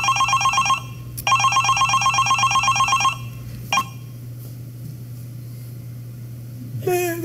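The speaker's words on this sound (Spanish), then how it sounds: "tiene que contestar el teléfono porque puede ser una llamada importante" A telephone rings loudly in two electronic bursts, the second longer, over a steady low hum, followed by a faint click and a brief rising tone at the end.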